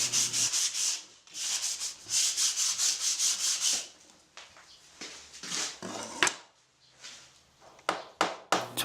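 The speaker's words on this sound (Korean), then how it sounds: "플랫을 받기 전에 지판을 마감이나 다름없기 때문에 깔끔하게 사포질을 해줍니다." A ukulele fretboard being sanded smooth with sandpaper after the fret slots are cut, giving long rhythmic back-and-forth rubbing strokes close up, then shorter, fainter scrapes and pauses near the end.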